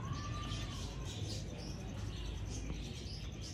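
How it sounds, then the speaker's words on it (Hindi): Sialkoti rooftop pigeons coo and chirp softly at close range, low and faint over a steady background hiss. "दोस्तों प्योर छत वाले कबूतर हैं ये,"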